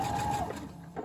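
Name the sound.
sewing machine stitching an automatic backstitch on a fabric mask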